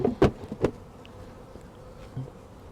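A honeybee swarm settles into a hive, giving a faint, steady buzz in the background, with a couple of sharp knocks from hive parts near the start and no talking.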